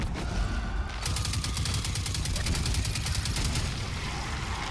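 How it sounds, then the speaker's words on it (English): Rapid regular bursts of gunfire-like explosive shots from a grenade launcher in Destiny 2 co-op play, a quick repeating train of sharp reports over a steady rumbling game bed, loud and close. "Oh, grenade launcher."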